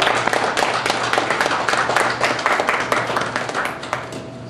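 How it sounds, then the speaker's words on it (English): An audience at Jackson State gives a panel a warm round of applause, dense clapping close by that slowly tapers off. "Let's give our panel members another round of applause."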